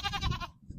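A Nigerian dwarf goat gives a short, wavering bleat close by, followed by a brief quieter murmur.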